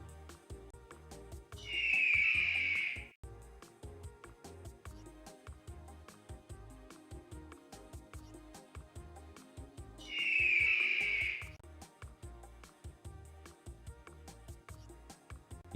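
An eagle cry rings out twice during a stream, each a shrill screech lasting about a second, loud above a quiet background of clicks and low rumble.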